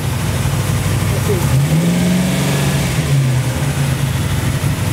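V8 engine fitted with a rebuilt Holley 4150 Brawler carburetor idling at around 1100–1200 rpm, a loud, steady low rumble with a brief rise in pitch partway through, as someone talks over it.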